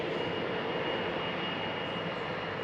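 Jet engines of a KLM Boeing 777-200ER and an Air France A319 at Amsterdam Schiphol airport give a steady, continuous broadband roar heard from a distance.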